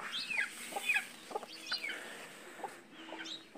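Chickens cluck and squawk in short, scattered calls at moderate distance against a quiet farmyard background, with no speech.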